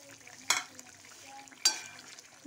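Fish curry being stirred in a pan, two distinct scraping clinks of a spoon against the metal over a faint simmering sizzle, quiet and close, with no talk.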